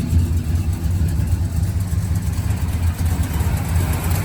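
The 400 V8 engine of a 1967 Pontiac Lemans convertible with an Edelbrock carb idles steadily and loudly nearby, a low rhythmic rumble with an even, lopey pulse and no talking.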